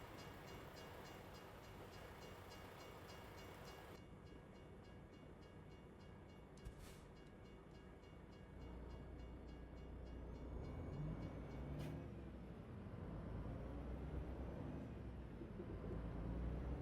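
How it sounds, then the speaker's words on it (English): A steady rumbling passenger train in a video game passes with constant rolling noise, growing slightly louder toward the end, with a couple of brief sharp clanks. "Oh, yeah, passenger train."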